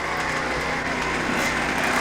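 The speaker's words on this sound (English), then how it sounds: "You can hear some engines running." Motorcycle engines idle and rev in the staging area of a club hillclimb in Port Huron, a continuous loud mechanical drone filling the short stretch with no talk over it.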